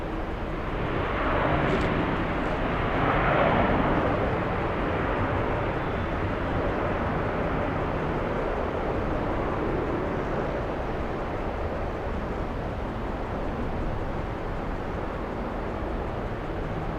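Airbus A321XLR airliner on runway 4 right, a long sustained engine rumble and roar that swells early then holds steady at moderate distance, alone without talk.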